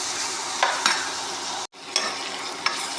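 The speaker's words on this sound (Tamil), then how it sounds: "நல்லா கொஞ்சம் மஞ்சத்தூள் வெளியே போட்டுக்கலாம். அதை நல்லா வதக்கிட்டு நல்லா வதக்கணும்." Turmeric sautéing in a pan with salt gives a steady close sizzle and frying hiss, with a few stirring scrapes and one brief dropout midway.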